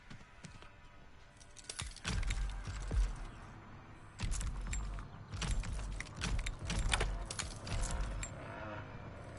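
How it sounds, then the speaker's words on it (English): Lock picking on a door in the video game Texas Chainsaw Massacre, played on PS5: quick metallic clicks and scraping taps in irregular bursts, close and moderately loud, with game ambience underneath. "I'm picking the lock at the cattle chute front door right now."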